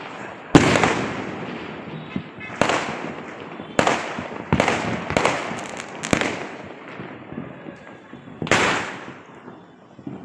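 Loud Diwali firecrackers burst one after another at irregular intervals, each sharp bang trailing into an echoing rumble, with quieter pops between.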